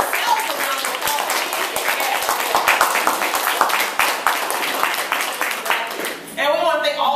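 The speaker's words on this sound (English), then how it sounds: "So, again, give her a round of applause." Audience at a business opportunity meeting claps loudly and continuously, dense applause that ends with a voice speaking over it near the close.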